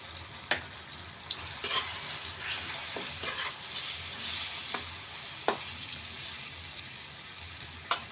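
Ginger garlic paste fries with melted tomatoes in a pan for Bihari-style chicken curry, a soft continuous sizzle broken by scattered sharp scrapes and taps of stirring.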